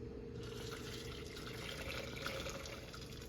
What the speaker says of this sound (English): I'm going to pour as much of this will go in and cover up the onions